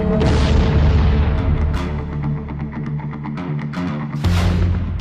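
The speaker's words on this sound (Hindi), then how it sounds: "ईरान के बैलिस्टिक मिसाइल हमलों से दहल उठा बेरशेवा।" Iranian ballistic missile strikes hit the Israeli city of Beersheba, heavy booming explosions rolling and echoing, with one deep blast near the start and another near the end.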